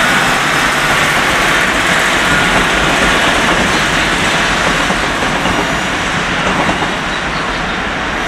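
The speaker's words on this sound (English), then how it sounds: "This is the train I got back to York," Steady, loud rumble of a train running on the rails between Sheffield and York, with a continuous roar and faint rhythmic clatter heard from inside, unbroken for the whole stretch.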